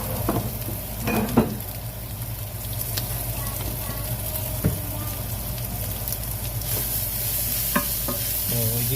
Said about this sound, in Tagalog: So, igigisa lang natin siya.